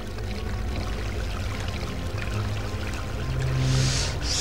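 Water pours steadily in the Harry Potter and the Prisoner of Azkaban video game, a continuous splashing flow at moderate level with no talk over it.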